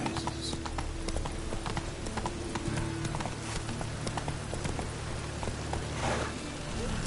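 A horse gallops in the Witcher 3 video game, its rapid rhythmic clip-clop hoofbeats steady and close throughout, mixed with game music and ambient sounds.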